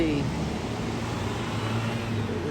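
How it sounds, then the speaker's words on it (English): Steady, continuous roar of passing cars on a busy street beside a garden planting site, a dense wash of road noise at moderate level with no breaks, as if heard from the curbside. "there's tons of traffic always on the street"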